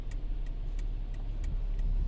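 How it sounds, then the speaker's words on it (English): Steady road traffic rolling past on a wet main road in Paphos, Cyprus, a low continuous rumble of cars with a faint regular ticking over it, no talk. "wait for this traffic to clear"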